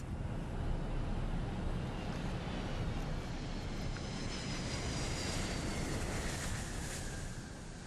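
The Antonov An-225 Mriya cargo aircraft cruises at night at about 800 km/h, a dense, constant engine roar and rushing airflow heard from inside, steady and loud throughout.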